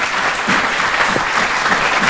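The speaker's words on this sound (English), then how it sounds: "Let's give our panelists, who are extremely busy, a big round of applause." Conference audience gives the panelists a loud round of applause, a close, thick, continuous wash of clapping from many hands throughout.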